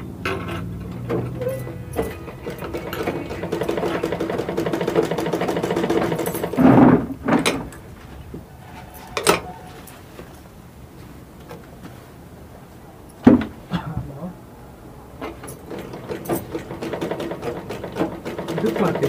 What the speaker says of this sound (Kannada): ಸೀದಾ ಒಂದು ಹೊಲಿಗೆ ಹಾಕಬೇಕು.